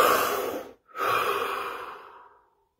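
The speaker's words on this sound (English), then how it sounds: "Deep breath." A single deep breath, a long airy inhale, a brief pause, then a slow exhale that fades out, close and quiet with nothing else present.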